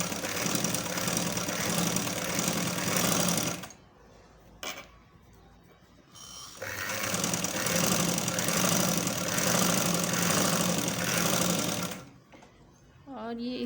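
A sewing machine stitches zigzag lace onto a dupatta edge in two long, loud, steady runs with a brief quiet pause between them.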